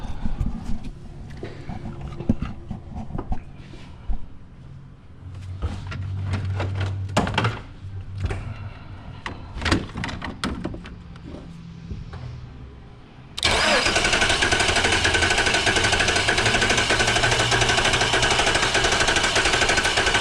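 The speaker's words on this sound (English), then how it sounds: "I'm gonna crank the engine over" A retired police car's engine cranks and sputters in bursts with some clanking, then catches and runs at a loud, steady roar for the last several seconds.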